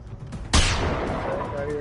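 A single loud gunshot in the Generation Zero game, sharp and close with a long reverberant decay trailing off afterward, with faint talk underneath.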